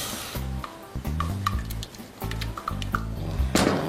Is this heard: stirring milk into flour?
yes